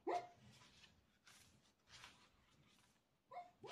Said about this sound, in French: C'est mon petit chien que vous entendez là. Il est en train de rêver.